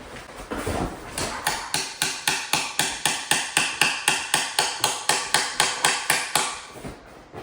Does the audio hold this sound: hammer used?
yes